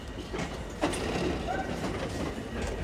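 Class 701 Arterio train 701059 rolling slowly out of the yard at Clapham, a steady nearby rumble with faint wheel clatter and a brief squeal, continuous throughout.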